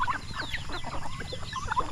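Mixed-breed farm chickens, including Rhode Island Red, Black Australorp, native Huluhano and Shamo crosses, cluck in short, close, overlapping bursts over a low background rumble.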